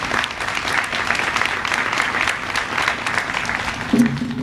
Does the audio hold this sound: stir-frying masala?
no